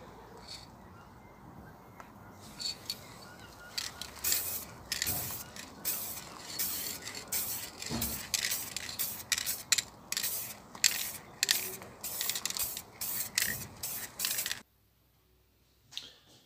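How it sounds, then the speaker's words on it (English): Crystal clear coat sealer is sprayed from an aerosol can onto recycled pine in a series of short and longer hissing bursts, close and fairly loud, with rattling of the can between passes before it stops. "Spray on our crystal clear,"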